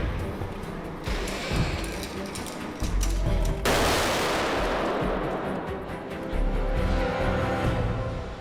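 Gunfire from a scene in the 2008 film Iron Man: loud, rapid bursts and cracks of shots over a dense rumbling background, rising and falling across the stretch.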